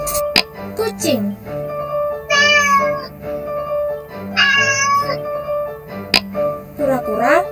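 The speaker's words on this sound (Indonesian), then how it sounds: "kucing," A domestic cat meows twice in clear, drawn-out calls a couple of seconds apart, set against a quiet background in an early-childhood lesson on pet animals.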